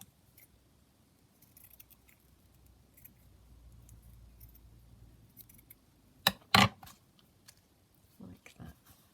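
Scissors trimming paper for a handmade journal make a short burst of loud, close snips partway through, then a couple of fainter cuts after a quiet stretch.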